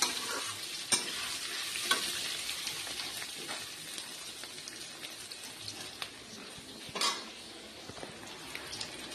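Potatoes coated in turmeric and salt stir-fry in a hot pan for a Bengali vegetarian dish, giving a steady close sizzle broken by repeated scraping and stirring clinks.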